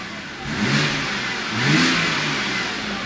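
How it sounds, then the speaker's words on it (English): A BMW 325i's N52 straight-six engine revs up twice in quick succession, rising and falling in pitch, close and loud with no talking. "I'm just going to rev it quickly because it sounds a lot better than it did."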